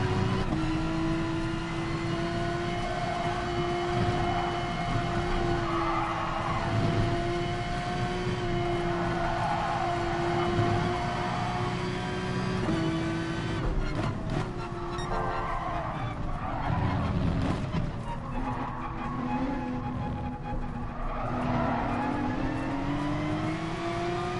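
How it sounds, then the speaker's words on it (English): Race cars in Gran Turismo Sport, including a Porsche, scream at high revs with long tyre-squealing skids and shifting engine pitch, the sound turning rough and jumbled midway as a collision breaks up the steady whine. "Oh, that's a nasty collision."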